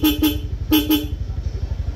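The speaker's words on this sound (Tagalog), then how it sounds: "dual disc horn. So dual horn setup, horn selector switch." Two pairs of loud, bright horn toots from a Suzuki Skydrive motorcycle's dual disc horn ring out close by, each a quick double blast, over a steady idling engine rumble that continues after.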